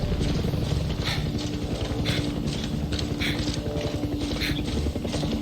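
A helicopter in the Far Cry 6 shooter game churns through a steady, rhythmic chop of regular thumping pulses over a constant roar, sustained and fairly loud throughout.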